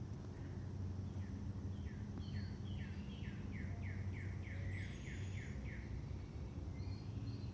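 Doves calling in an outdoor natural setting, a run of short repeated chirping notes in a quick even series over a steady hiss of background noise, moderately distant.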